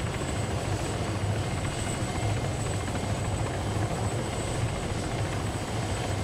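Helicopter in the video game ArmA 3 coming in to land, its rotor and engine drone loud and unbroken throughout, with no talk.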